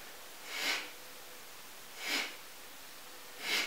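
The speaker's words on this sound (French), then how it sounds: "inspire, expire" Three sharp nasal breaths taken at an even pace during a Kundalini yoga upper-body twist exercise, each a short airy rush, close and quiet against a faint background.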